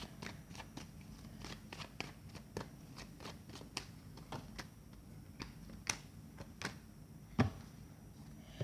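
Tarot cards being shuffled by hand close up: a steady run of quiet, crisp riffling snaps and flicks repeating roughly every half second, soft and alone with no talking.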